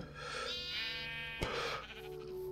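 Villager sheep in a modded Minecraft world bleat in a drawn-out, wavering cry, then a sharp click cuts in before a second, shorter bleat. Steady game background hum runs underneath.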